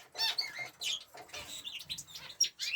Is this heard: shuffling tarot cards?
no